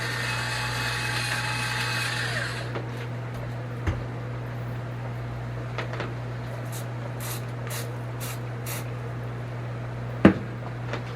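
Automatic electric pepper grinder grinding into a pot of chili with beans, a close buzzing whir lasting about three seconds before cutting off, followed by a quiet kitchen with faint clicks and a soft knock.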